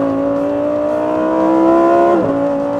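Lamborghini Huracán EVO RWD Spyder engine revving hard under acceleration, a loud, close, steady rising drone that drops sharply near the end as a gear shifts.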